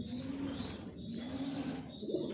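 Afshan grizzle racer pigeons in a loft, one sitting on eggs, give steady low cooing with soft wing flutters, a close and continuous murmur with no voices.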